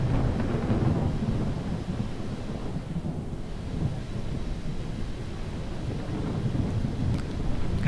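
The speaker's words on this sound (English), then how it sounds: "Getting to hear some thunder now" Thunder during a night flight in Microsoft Flight Simulator aboard a King Air 350i, a low rolling rumble over steady rain and wind, held at moderate level throughout without talking.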